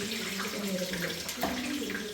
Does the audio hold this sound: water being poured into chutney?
yes